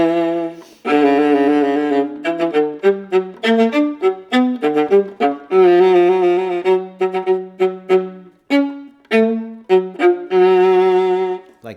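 A solo viola plays a Tchaikovsky Symphony No. 6 audition excerpt, with bouncing-bow strokes giving short detached notes in quick, lively phrases, played close and clear.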